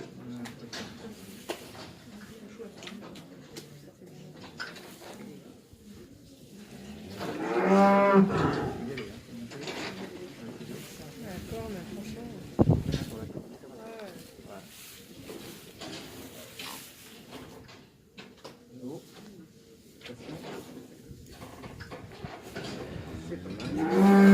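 A cow moos several times amid a noisy outdoor scene, the lowing rising clearly around the middle and again near the end, with people chatting over it.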